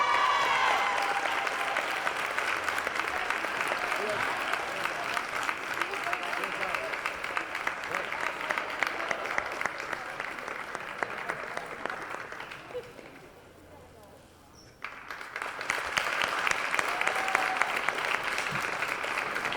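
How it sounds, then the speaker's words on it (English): A crowd in a gym at a girls' high school basketball senior night applauds a senior player, long continuous clapping with a brief lull before it swells again, voices and cheers mixed in. "let's give a round of applause to number 35"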